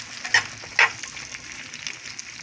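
Sliced carrots sizzling in a frying pan with jalapeño chiles, a steady close crackle with two brief sharper spits early on, no talking.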